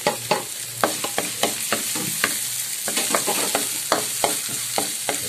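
Onion sautéing in a little oil in a pan, a steady sizzle broken by rhythmic scraping stirs, close and clear with no talk.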